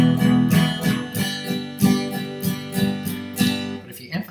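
An acoustic guitar strums a basic pattern, steady rhythmic chord strokes up close for a few seconds before the last chord rings out.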